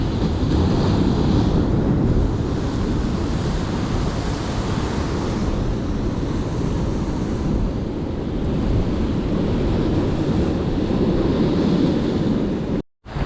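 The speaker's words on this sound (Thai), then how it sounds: "คลื่นมันแรงมากเลย" Strong sea waves surge and crash continuously off the San Diego coast during ocean fishing from a boat, a loud, dense roar with heavy wind buffeting the microphone, ending in a brief dropout.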